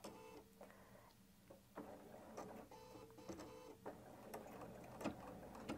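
A Bernina 790 Pro sewing machine runs a lock stitch, giving a quiet, steady mechanical whir with faint rhythmic needle ticks and small bursts of louder clatter.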